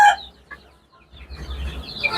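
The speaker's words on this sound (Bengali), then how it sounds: "এখানে মুরগি আছে।" Native hill chickens on a farm give a few short, scattered clucks, then a busier stretch of overlapping clucking and chatter from the flock at moderate loudness.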